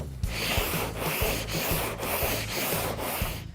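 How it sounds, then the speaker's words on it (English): Cross-block sanding with 80-grit sandpaper across polyester glaze on the deck lid of a 1970 Dodge Challenger: rhythmic, coarse back-and-forth rasping strokes roughly every half second, close and loud, with no talking. "I'm going to start sanding it with a fresh piece of 80 grit, again the cross blocking"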